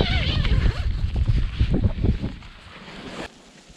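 Strong wind roars across a frozen lake in northern Maine, gusting hard and buffeting close to the microphone before easing off to a lighter rush.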